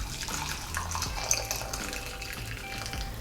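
Hot water pouring steadily into a used candle jar, a continuous close splashing rush that stays even throughout.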